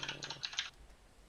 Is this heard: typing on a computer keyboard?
yes